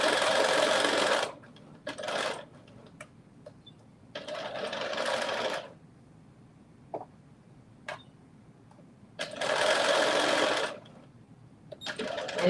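A sewing machine stitches a pocket seam on a New Look 6780 garment, running in three long, steady bursts of rapid mechanical chatter with short back-stitch spurts between them. It is close and clear, with no talking.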